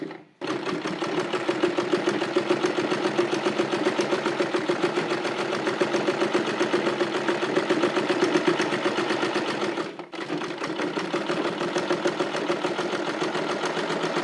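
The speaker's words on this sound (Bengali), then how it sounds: "তিনটি কাপড়কে একসাথে একটি শিলি দিয়ে জয়েন করে নিচ্ছি" A sewing machine runs steadily, stitching three layers of cotton fabric joined in a single seam for a prayer hijab, a dense continuous mechanical whir with one brief pause near the end.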